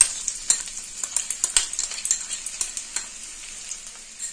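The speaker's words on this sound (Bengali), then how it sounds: "এবার এই তেলের মধ্যে আমি 2 চামচ রসুন কুচি আর 2 চামচ আদা কুচি দিয়ে দিচ্ছি।" Chopped garlic and ginger crackle and sizzle loudly in hot oil, a close, bright spitting hiss punctuated by quick stirring pulses that gradually settle into a steadier fizz.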